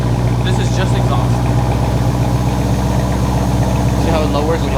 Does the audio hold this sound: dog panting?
no